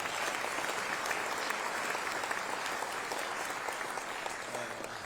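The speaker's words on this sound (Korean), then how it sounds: "우리 모두 감사하다는 뜻에서 큰 박수를 보내주십시오." Guests at a presidential luncheon for veterans and families of national merit give the president a big round of applause, a dense, even roar of many hands that holds steady throughout.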